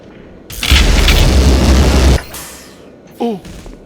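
Gluon gun fired in Black Mesa, a loud sustained roaring energy blast of about a second and a half that cuts off abruptly, followed by a short burst of speech.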